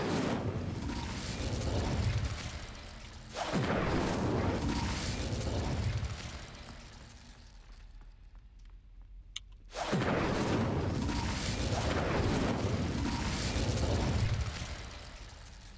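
An Incendio fire spell in Hogwarts Legacy erupts in roaring, whooshing bursts of flame, loud and sustained, with a brief quieter gap and a sharp click before another long blast.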